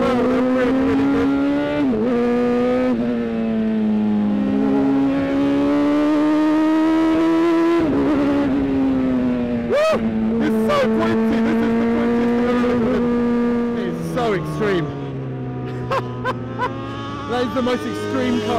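An extreme lightweight sports car, lighter than an F1 car, drives hard with a loud, continuous engine howl that rises and falls through repeated revs and gear changes, close and dominant throughout.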